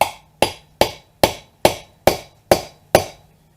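A hammer drives a bearing driver into the front wheel hub of a 1995 two-wheel-drive Ford F150, landing eight evenly spaced, sharp metallic blows about every half second, loud and close with no talking.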